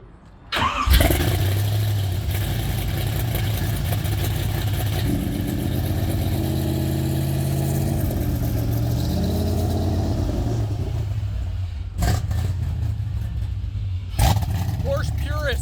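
An LS V8-swapped Porsche 911 cranks and fires after a brief quiet start, then settles into a loud, steady idle with a few rising revs and sharp blips near the end, heard up close with a voice briefly over it.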